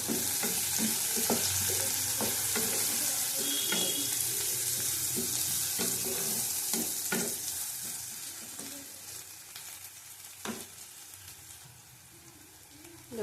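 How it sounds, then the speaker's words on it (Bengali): Four small green chilies frying in a pan for a pointed gourd and poppy seed dish: a steady oily sizzle with scattered stirring clicks, fading slightly toward the end, with no talking. "আবার ভালো করে ভেজে নেব"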